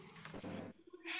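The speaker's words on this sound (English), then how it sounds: "your cat's calling you" A house cat lets out a single drawn-out meow, close and fairly quiet, with no voices over it.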